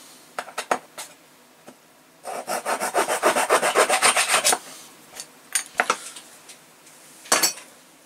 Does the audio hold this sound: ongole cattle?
no